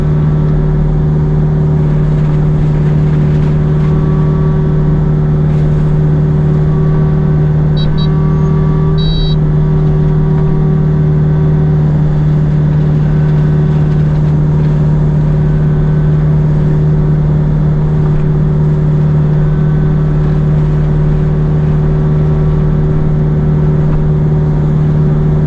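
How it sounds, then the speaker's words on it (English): A mini excavator's engine runs steadily and loudly throughout while spreading mulch, holding a constant droning hum with no pauses and no voices. "this is the perfect job for this mini excavator"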